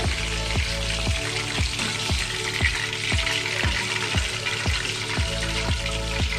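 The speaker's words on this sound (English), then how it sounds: "And I'll fry the rest also in the same manner" Chicken lollipops deep-frying in a pan, a steady loud sizzle with a regular rhythmic clatter, like stirring or spatter bursts, repeating roughly every half second throughout.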